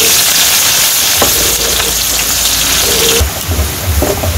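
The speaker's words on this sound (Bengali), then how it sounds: "এখন দিয়ে দেবো পেঁয়াজ" Onions drop into hot oil seasoned with black cumin in a village kitchen during rainy weather, a loud, dense, steady sizzle heard up close, with stirring scrapes and a brief surge near the end.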